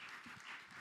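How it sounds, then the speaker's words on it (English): A short burst of applause from a conference crowd, steady and fairly faint, with no voices on top. "Big round of applause, please."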